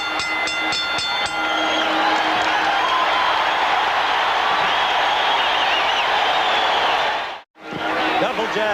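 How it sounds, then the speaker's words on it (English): Boxing crowd roaring at the 1982 Holmes v Cooney heavyweight fight, a dense continuous wash of cheering with a commentator talking over it, briefly cutting out near the end. "Crowd's alive."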